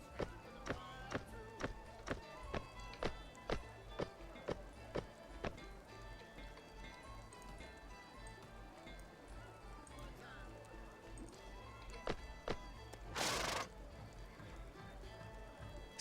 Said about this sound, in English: I gotta find that horse clop sound.